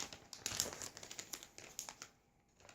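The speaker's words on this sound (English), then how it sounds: "roll up the bag much further so I can get a nice, clean, straight cut on the bag" Close, quiet crinkling and crackling of a plastic bag being rolled up before cutting and sealing for meat aging, steady rustles with sharper crackles through most of the clip, easing off near the end.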